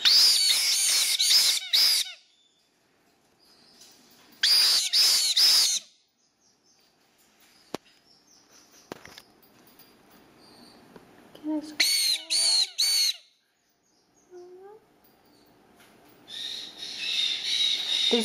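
Baby caique parrots at an aviary in Georgia give loud, harsh bursts of repeated screeching calls in several clusters, separated by quieter stretches with soft rustling and faint chirps.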